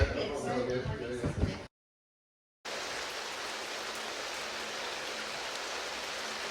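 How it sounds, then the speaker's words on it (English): Outdoors, rain falls as a steady, even hiss that follows a brief stretch of talking and a moment of silence. "It's raining"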